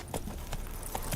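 Hoofbeats of Roach, the horse in The Witcher 3, give a brief run of quick, fairly faint clip-clop strikes at an even pace, sounding alone with no voices.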